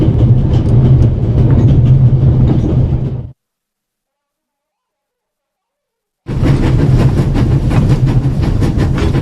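A train in the video game The Raven rolls at full speed, a loud, steady rail clatter that cuts out to silence for a few seconds and then resumes just as loud.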